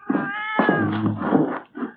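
A cat meows loudly and close by, a drawn-out wailing cry followed by shorter, rougher calls, heard alone indoors in an apartment hallway.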